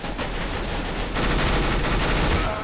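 Dense, continuous automatic gunfire in Counter-Strike: Global Offensive, loud rapid bursts running unbroken for a few seconds and intensifying partway through, with no talking over it.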